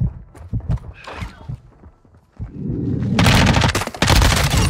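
Gunfire in an online shooter game, with scattered sharp shots and footstep-like clatter at first, then a loud, dense burst of rapid automatic fire that carries on to the end.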